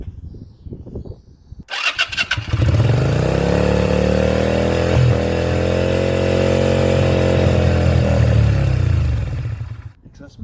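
A 2001 Yamaha XVS125 Dragstar motorcycle cranks briefly, then its small engine catches and settles into a loud, steady idle close by for several seconds before cutting out.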